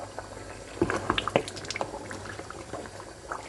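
Tomato stew with bell pepper and onion bubbles gently in a pot while being stirred, giving soft wet clicks, drips and low simmering burbles at close range, fairly quiet, with no talking.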